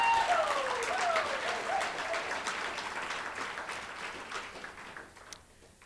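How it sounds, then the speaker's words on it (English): Audience applause at the 2015 Pride in Academics recognition celebration, a broad wash of clapping from a crowd that starts full and gradually fades away. "Let's give these lovely ladies another round of applause."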